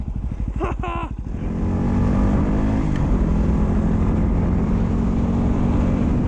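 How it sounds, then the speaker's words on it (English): A dirt bike ridden at the Grand Canyon, its engine idling in quick, even pulses, then swelling into a steady, close, droning run as it gets under way. "We're on the dirt bike in the Grand Canyon!"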